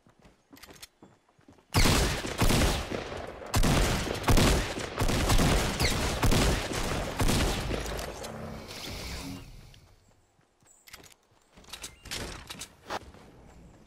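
Gunfire in Fortnite Battle Royale: loud rapid bursts of shots packed across several seconds, then fading, with a few scattered shots and softer movement sounds near the end; no speech over it.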